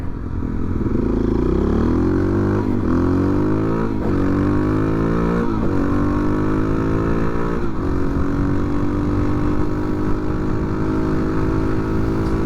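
Suzuki DRZ400 motorcycle ridden on an open road, its engine droning steadily and loud throughout with rising pitch sweeps as it accelerates through several gear changes, under constant wind rush.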